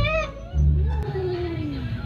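A cat meows near and faintly, a short wavering cry that bends up and then slides down, over low room noise with a soft voice under it.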